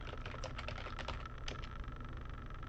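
Typing a Linux command on a computer keyboard, a quick run of close, crisp key clicks with a few louder taps over steady low background hum.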